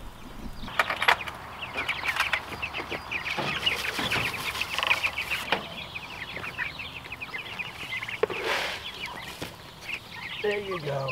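Turkeys cluck and chatter continuously in a busy flock on a backyard farm, fairly close, with occasional louder squawks and some human talk mixed in.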